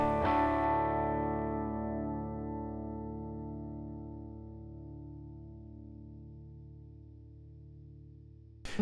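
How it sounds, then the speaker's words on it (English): An electric guitar chord played through a 2011 FYD Amps Deluxe amplifier modeled on a Deluxe Reverb channel, struck once and left to ring out loud and clear, decaying slowly over several seconds with a shimmering chorus-like wobble. "This is a 2011 FYD Amps Deluxe."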